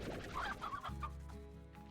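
Chickens in the Slime Rancher video game clucking in short bursts, several quick calls up close followed by a steady low hum of game ambience.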